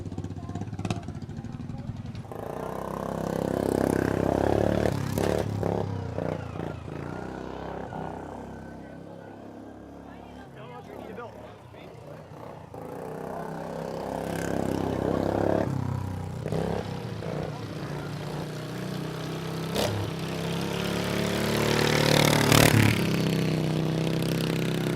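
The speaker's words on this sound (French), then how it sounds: "Dans l'autre tour, c'est un vieux tracteur." An old tractor engine from around 1980 runs through a race, a steady loud mechanical drone with rattling clatter that swells and fades as it passes, with faint voices in the background.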